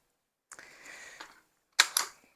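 Mechanical metallic clacks from a carbine: a brief rattle and short sliding noise as the bolt releases, then two sharp snapping dry-fire clicks close together, near and crisp with no talking.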